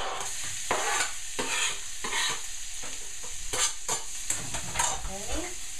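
Finely chopped onion sizzles steadily in hot oil in a pan for risotto, with repeated close spoon scrapes and stirring strokes over a constant frying hiss, no voices.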